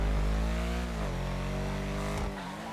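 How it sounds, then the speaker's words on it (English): Ubermacht Sentinel GTS engine from GTA V inside a parking garage, a loud deep bassy engine tone that revs up and settles, echoing and close, with no talk. "as you can hear, the engine sounds way louder"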